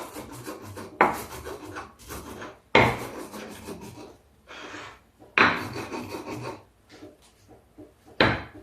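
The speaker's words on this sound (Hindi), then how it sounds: "अब मैं इसको सिलौटी में पीस लेती हूँ।" Cumin ground by hand on a silauti grinding stone in a kitchen, a series of loud rasping scrapes in separate strokes with short pauses between them, close to the microphone.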